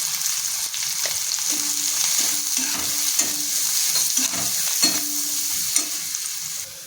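Onion stuffing mixture for stuffed chillies sautés in a pan with coriander leaves and turmeric, a steady close sizzle broken by stirring scrapes and light clinks, no voices.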